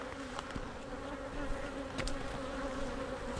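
Honey bees buzz steadily around a settled swarm, a continuous drone with faint clicks and rustles mixed in, fairly quiet and without any talk.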